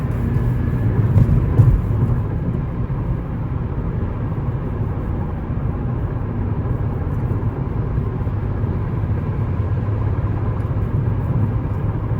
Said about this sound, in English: like if you can hear the highway and everything, it's because of my tires